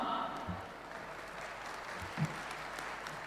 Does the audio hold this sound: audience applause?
yes